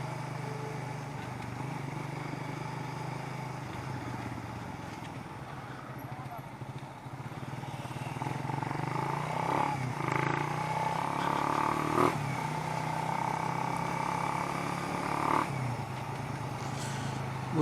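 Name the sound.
motorcycle riding to an intersection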